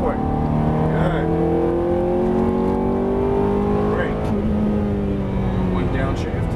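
A Ferrari F430 on a Las Vegas racetrack revs and accelerates close by, engine pitch climbing through gears in steady sweeps, with an instructor talking over it.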